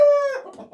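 A single short rooster crow rings out nearby, loud and clear, trailing off into a ragged fade.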